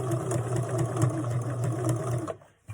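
A sewing machine runs continuously, stitching an invisible zipper into a garment in backstitch, with a steady close whirring hum and rapid needle rhythm that cuts off abruptly near the end.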